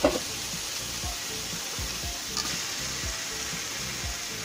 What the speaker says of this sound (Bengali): এখন আমি মাংসগুলো দিয়ে দেবো।